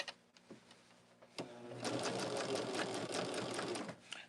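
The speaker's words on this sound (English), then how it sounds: "all I'm doing is stitching down the first border" Sewing machine stitching down the first border of a Shooting Stars quilt: a few soft taps and a short start, then a steady rapid mechanical whir of stitching, close and fairly quiet, with no talking.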